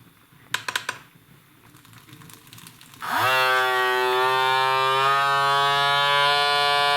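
A few plastic clicks, then a vacuum sealer starts up and runs with a loud, steady whirring hum while heat sealing a bag of fresh mushrooms.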